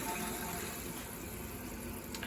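Toilet tank refilling after the float drops and opens the valve, a steady close rush of running water that stays even throughout with no talk.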